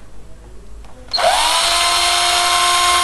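After a quiet moment, a 14.4-volt cordless drill running from a mains power conversion spins up sharply and keeps running with a loud, steady high-pitched whine.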